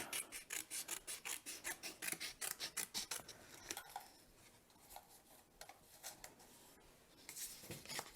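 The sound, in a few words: scissors cutting a strip off cardstock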